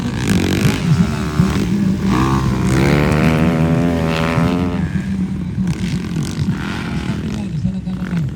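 A motocross motorcycle engine at an intermediate production open-class heat of the Kaamulan motocross competition, revving loudly and rising and falling in pitch as it passes, with an announcer talking over it.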